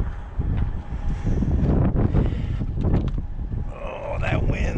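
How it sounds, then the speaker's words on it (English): Strong wind buffets the microphone outdoors beside a 7x14 utility trailer, a loud continuous rumbling roar with gusts, and a person speaks briefly over it. "Oh, that wind."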